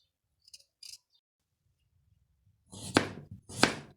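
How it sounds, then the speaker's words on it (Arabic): Two firm cuts through potatoes on a board, each a crisp knife stroke about half a second apart, close and fairly loud after a few faint taps, as potatoes are cut for a falafel and amba dinner. "طبعا حبايبي جاي نقطع البوتيتو"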